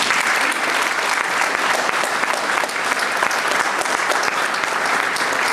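An audience breaks into a strong, steady round of applause at a formal evening lecture, dense clapping filling the room at an even level throughout.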